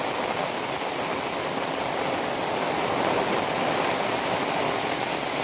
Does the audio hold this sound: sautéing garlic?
no